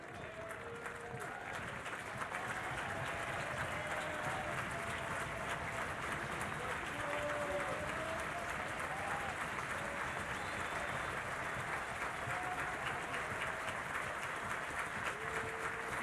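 A college baseball crowd at a Georgia Tech vs Oklahoma game cheers and applauds steadily throughout, a broad sustained roar of clapping and voices from a large stadium audience, with faint distant chatter underneath.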